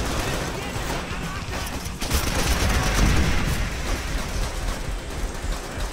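Gunfire in Call of Duty: World at War roars as a dense, continuous barrage of shots and explosions, loud and unbroken throughout, with players talking underneath.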